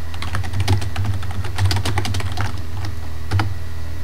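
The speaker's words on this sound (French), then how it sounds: "Alors je vais écrire un message" Keys clatter on a computer keyboard as a message is typed, with quick irregular bursts of close, crisp clicks and short pauses between runs.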